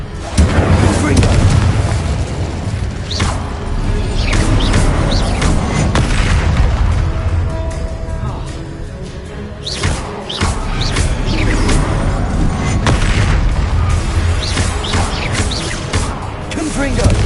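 Repeated booming Confringo spell explosions from the video game Hogwarts Legacy, a dense run of loud blasts and bursts over a continuous rumbling bed.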